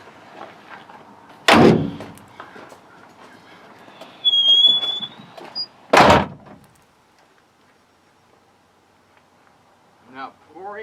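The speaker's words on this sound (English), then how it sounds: "so let's close the door." Two heavy door slams from a Chevrolet Squarebody Suburban's barn doors sound a few seconds apart, loud and close, with a high squeak and muffled shuffling between them and a voice near the end.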